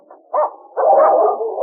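A dog named Whitey barking frantically at a snowy Yukon cabin door, a short yip followed by a longer, strained, whining bark, close and loud.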